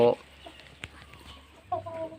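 A Burmese-bred fighting cock on a gamecock breeding farm gives a few short, near clucks separated by quiet stretches, with a fuller call toward the end.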